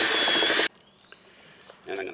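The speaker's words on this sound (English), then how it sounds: "I have to drill a hole through here to accommodate this line." A power drill bores a hole for the line of an RV air-conditioning unit: a loud, steady, close whir for about two-thirds of a second, then it cuts off, leaving faint handling clicks and a soft rustle.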